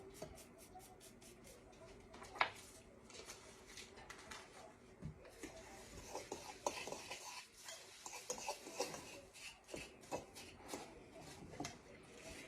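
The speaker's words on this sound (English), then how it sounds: "So let's get this all crushed up. And I'll stir that a little bit." Spoon stirring and scraping through a crushed-topping broccoli casserole mixture in a bowl, a steady quiet clatter of light scrapes and taps with a few sharper knocks, close and fairly faint.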